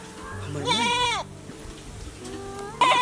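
A goat gives one loud, wavering bleat up close, then a quieter pause with faint background sounds, and a second bleat begins at the end; a person's voice is also present.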